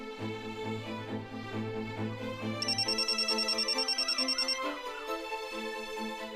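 A telephone rings with a melodic electronic ringtone, a repeating tune of steady tones followed by a rapid trilling burst and then more notes, loud and alone with no voices.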